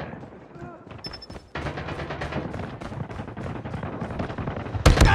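Rapid bursts of gunfire in the mobile shooter Call of Duty Mobile fill most of the clip. The shots are loud and dense, with a sharp blast at the end and voices talking over the fight.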